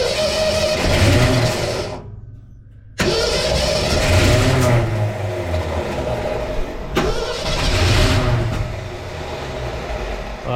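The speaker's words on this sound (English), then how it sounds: "You got to keep trying to crank it." A 1968 Ford F250 with a new starter cranks repeatedly, a loud, close, rhythmic grinding churn that runs for several seconds, cuts out briefly, then starts again without catching.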